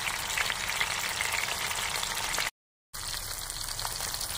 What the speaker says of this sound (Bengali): এই মাছগুলো খুব কড়া করে ভাজবেন না, হালকা এপিট উপিট করে ভেজে নেবেন।